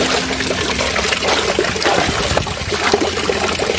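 Water from a natural spring trickles and splashes continuously outdoors, a steady close, fairly loud gurgling flow with no talking.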